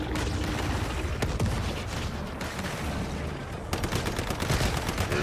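Enemy gunfire in the Once Human video game: rapid bursts of shots and automatic fire, loud and close, with sharp cracks standing out over a steady roar of combat.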